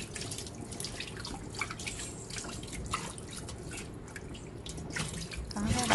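Beef bones are rinsed and scrubbed under running water in a sink, a quiet continuous splashing and trickling with irregular drips and scraping, growing louder toward the end.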